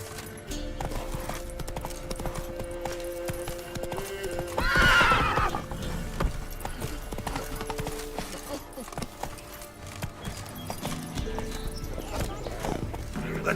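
Roach, the horse in The Witcher 3, gallops with rapid, rhythmic hoofbeats and lets out a loud whinny partway through, over game music and ambience, with a voice speaking briefly.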